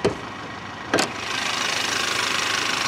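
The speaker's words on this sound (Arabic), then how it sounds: "هذا هو محرك الإيكو بوست، محرك توربو 2000 سي سي" Turbocharged 2.0-litre EcoBoost engine of a 2022 Ford Taurus idles steadily and close up, a smooth even hum with two brief sharp clicks near the start.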